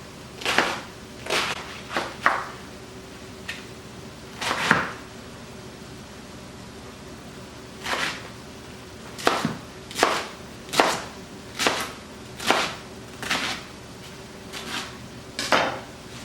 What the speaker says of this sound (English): Almost done chopping.